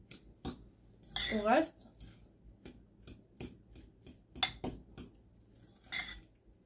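Utensil mixing in a home kitchen, heard as close, irregular metallic clinks and scraping taps against a bowl, several quick bursts spread through the stretch, with someone briefly talking.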